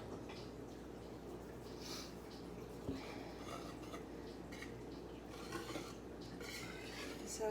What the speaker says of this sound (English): now the next step is to add the salt and whisk this together